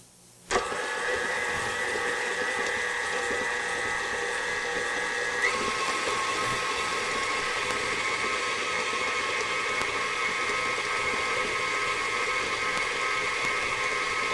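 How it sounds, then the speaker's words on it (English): An electric kitchen mixer whirring in a bowl of cream cheese bar batter, starting abruptly and running as a steady high-pitched motor whine, its pitch stepping up partway through as the speed rises, close and continuous with no talk. "So we've got our mixer. We're going to put this on medium speed and then increase it to high speed after just a bit."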